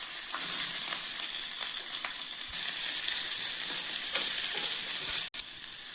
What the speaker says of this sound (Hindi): हम इसी फ्राई पैन में हम आंवले को भी रोस्ट कर लेंगे।